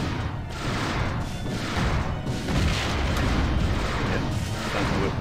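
Turrets open fire with heavy weapons in the space combat game Wing Commander Prophecy, making a dense, continuous barrage of booming, crashing blasts that roll in loud overlapping waves with no gaps.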